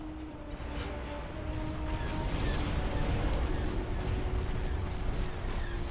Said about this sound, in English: Main cannons powered and ready.